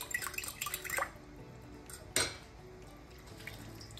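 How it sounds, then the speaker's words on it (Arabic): Water trickles and splashes into a pot while couscous is cooked, with a run of drips and small pours, then one sharper splash, and quiet stirring between them. "نزيدو الماء"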